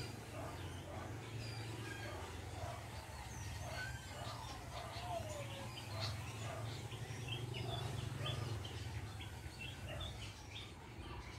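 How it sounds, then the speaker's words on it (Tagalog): Birds calling from a stand of large trees, with scattered short chirps and tweets spread across the clip, mostly faint and mid-distance over a steady low background hum. "pumupunta sila dito yung mga ibon"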